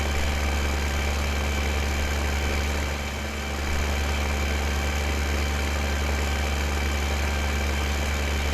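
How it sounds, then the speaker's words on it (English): A slow tractor in Farming Simulator 2015 drones with a steady low engine hum and idle vibration, holding constant with only a brief dip midway and no voices over it. "That must be the slowest tractor which is in Farming Simulator."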